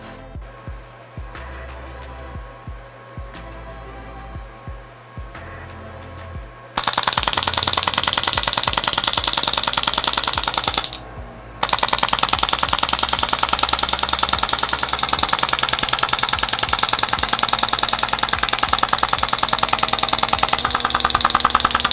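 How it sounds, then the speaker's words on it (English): An Emtone body sculpting machine fires targeted kinetic energy pulses as a fast, steady rapid-fire clatter like bullets. It starts after a few quiet seconds, stops briefly, then runs continuously and loud until the end, with no talk. "the firing of what sounds like bullets right now is actually the targeted kinetic energy that is being produced by the machine"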